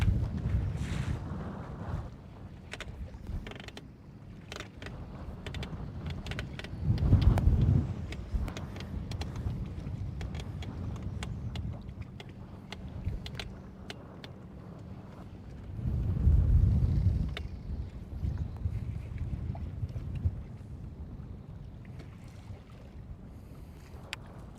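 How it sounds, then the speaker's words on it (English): Wind gusts across Lake Guntersville while bass fishing from a boat, a steady low rumble buffeting the microphone that swells twice into stronger gusts, with no one talking. "It's getting breezy."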